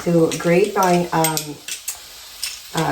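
Food sautés in a pan with a soft, steady sizzle and a few light clinks of utensils, running under a nearby voice that talks for most of the moment.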